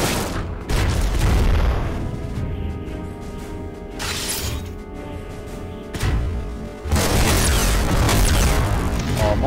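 Bazooka attacks in the PS2 video game Front Mission 4 make heavy, close booms with shattering blasts, arriving in several loud bursts separated by brief lulls.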